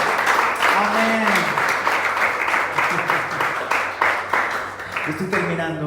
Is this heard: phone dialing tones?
no